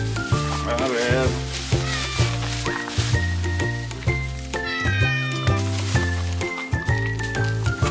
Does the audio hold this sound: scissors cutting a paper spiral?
no